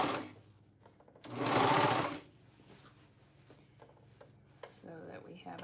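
A sewing machine top stitches a seam on an Emmy bra in one brief, loud whirring burst of about a second, with quieter handling noises before and after.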